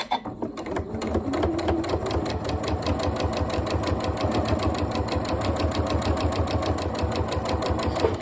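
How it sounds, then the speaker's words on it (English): A sewing machine stitches a ghost-shaped cushion close to the fabric edge, running as a steady, rapid mechanical chatter from start to finish at close range. "So we're just sewing just really close to the edge"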